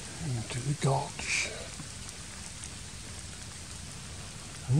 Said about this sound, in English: And a pretty steady rain now.